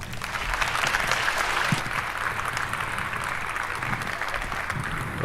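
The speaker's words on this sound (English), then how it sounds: "Please give him a warm round of applause." A conference audience applauds a speaker introduced for a talk on ASLR, with a broad, continuous roll of clapping from many hands that stays strong throughout and eases slightly near the end.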